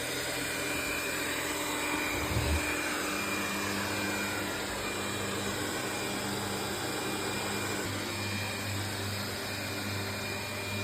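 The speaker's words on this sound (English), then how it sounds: "moving the chair away so the robot can clean it" A Xiaomi X20+ robot vacuum motor whirs steadily and evenly, close by, with a broad hiss and a brief low thump partway through; no one speaks.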